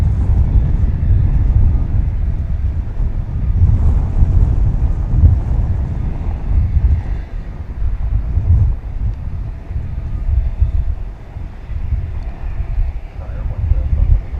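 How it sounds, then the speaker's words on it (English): Wind buffets an outdoor microphone at DFW Airport, a heavy low rumbling roar that runs steadily and loud throughout, with a faint voice beneath it. "Wind is buffeting me around a little bit."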